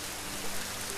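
Steady rain pours down in a dense, even hiss of drops, loud and continuous throughout with no break and no voices.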